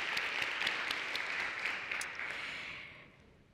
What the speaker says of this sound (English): I hope you all will join me in giving Ambassador Markarova another round of applause